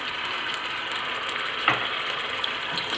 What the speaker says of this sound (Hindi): ऑयल के अंदर मैंने सबसे पहले डाल लिया है जी प्याज